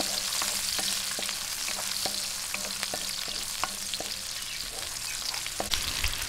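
Onions sautéing in a pan for sweet and sour fish, a loud continuous sizzle with regular light taps and scrapes of a spatula, close up and without speech.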